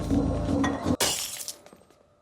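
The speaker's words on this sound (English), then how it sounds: "the vial of the chemical solution shatters" A glass vial of chemical solution shatters in one sharp crash, with a bright burst of breaking glass that quickly dies away into faint tinkling, heard over a dense musical backdrop.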